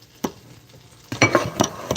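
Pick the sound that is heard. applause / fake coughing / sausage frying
sausage frying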